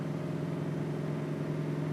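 A 1969 Chevrolet Camaro engine runs smoothly with a steady low hum, holding an even pitch without revving.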